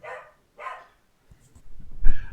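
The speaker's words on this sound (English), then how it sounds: "I can hear them barking." Dogs bark a few times, sharp muffled barks separated by short pauses, somewhat distant as if from inside a room, with thumping noise at the end.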